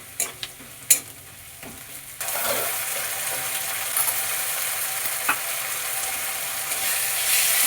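Onions frying in a pan with a loud, steady sizzle that swells after a few sharp clinks and stirring knocks at the start, close and continuous with no talking.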